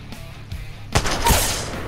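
A single sharp gunshot fired at an enemy in a shooter video game, loud and close, with a second crack and a brief echoing tail shortly after over quiet background.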